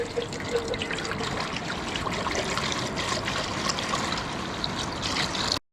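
Water pours and splashes steadily into a cooking pot for boiling pasta, a continuous trickling rush for several seconds that cuts off abruptly at the end.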